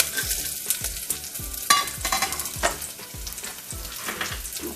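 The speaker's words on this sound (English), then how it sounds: "Fry a little bit" Green and red peppers, peanuts and cashew nuts fry in a pan, making a crackling sizzle under a quick, regular series of stirring thumps and scrapes close by, with no speech.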